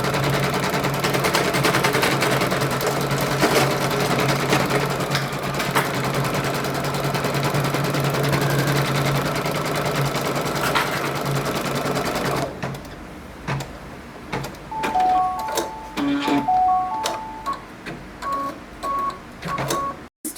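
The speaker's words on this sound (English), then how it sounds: "First step when sewing an applique is to sew the placement line." An embroidery machine stitches an applique placement line in a steady, dense, rapid whirring rattle for about twelve seconds, then stops, leaving quieter clicks and a few short electronic beeps.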